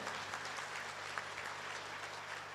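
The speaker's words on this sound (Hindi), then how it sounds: "एक बार जोरदार तालियां अगर आप बजा दें" Crowd applause at a Bishnoi youth conference, a continuous dense patter of many hands clapping with a low steady hum underneath, heard throughout.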